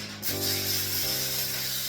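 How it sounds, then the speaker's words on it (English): A short burst of Pam cooking spray onto aluminum foil hisses steadily for over a second, close by, with a faint tonal whine underneath. "So I'm going to go ahead and spray that"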